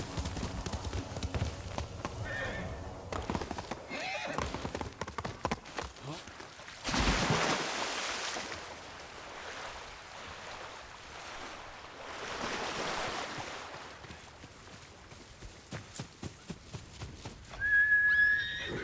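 A horse named Nobu in Ghost of Tsushima clip-clops with steady hoofbeats, then lets out a whinny, with wind or surf-like rushes between and a faint voice now and then.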